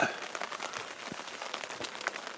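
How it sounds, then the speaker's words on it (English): Light rain patters at a campsite, a soft uneven spatter of drops with scattered small taps close by over a brief stretch. "Rain's letting up just a little bit."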